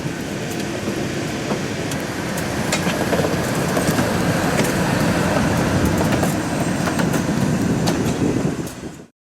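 A classic museum trolley car runs with a steady rumbling roll and scattered clicks and rattles from the wheels and body, holding fairly loud before cutting off abruptly at the end.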